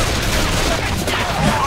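Dense, loud gunfire in the co-op zombie shooter Left 4 Dead, a continuous barrage of overlapping shots with no break.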